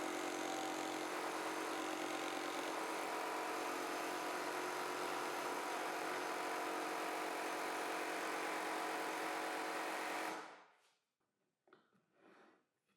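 A power saw fitted with an extra-long 150mm blade cutting through 54mm-thick hard birch plywood, running as a loud, steady buzz for about ten seconds before cutting off abruptly, followed by faint clatter.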